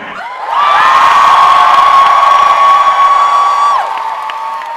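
A Comic-Con panel audience erupts in a loud, sustained roar of cheering and whooping from a large crowd, holding steady for a few seconds before easing off.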